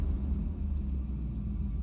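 A Chevrolet Camaro engine idles on its first drive after a differential replacement, a low, steady rumble heard close and fairly quiet, with no other sounds.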